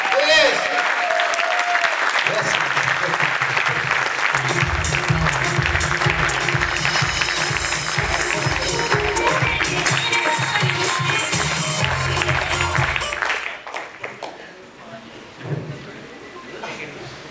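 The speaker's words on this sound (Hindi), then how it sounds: "जोरदार तालियों के साथ स्वागत कीजिए सर" A stage audience claps loudly to welcome a speaker, a thick sustained roar of applause that runs for about thirteen seconds before breaking up into a few scattered claps, with music and a voice over the fading end.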